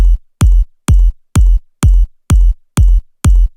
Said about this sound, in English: Then we add the kick drum,